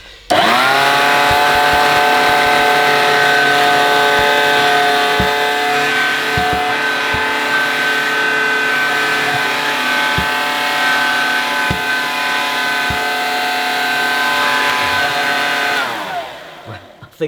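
A Dirt Devil Handy Zip handheld vacuum cleaner runs as a loud, steady, high-pitched motor whine for about fifteen seconds, then winds down and stops.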